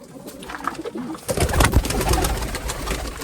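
Pigeons cooing in a loft, soft throaty coos layered close by, with a louder burst of fluttering and shuffling noise partway through and a low background hum.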